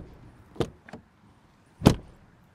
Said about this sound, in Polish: czy drzwi się kulturalnie zamykają